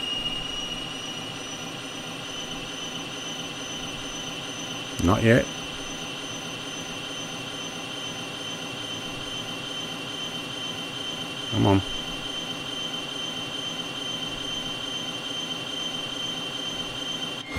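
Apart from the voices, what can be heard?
Cessna T-37B Tweet jet engine starting, Microsoft Flight Simulator video game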